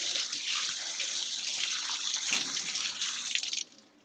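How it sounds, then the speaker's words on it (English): Squid is rinsed under a running kitchen tap, a steady close hiss of water splashing that runs for several seconds and then stops abruptly. "What I'm going to do, I'm just going to give a quick rinse."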